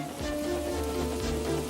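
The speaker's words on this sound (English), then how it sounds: "Wind and rain buffeted Edward." Wind and rain beating against a steam engine on a railway line, a steady hiss of rain under a low, constant rumble with faint tonal hums running throughout.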